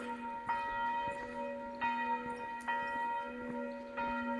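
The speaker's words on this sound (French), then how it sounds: "Sympa les petites cloches qui sonnent." A single small church bell rings at noon in a rural village, with several clear, resonant strikes spaced unevenly a second or so apart, each ringing on as it fades.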